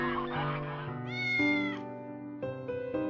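Cats meowing close by in a run of long, tonal, wavering calls, several overlapping and one rising higher, with no talk over them.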